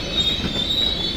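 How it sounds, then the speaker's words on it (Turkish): A Deutsche Bahn ICE train rolls close by at a station, its wheels squealing in a high, steady whine over a low rumble. "Ünlü Deutsche Bahn ICE treni."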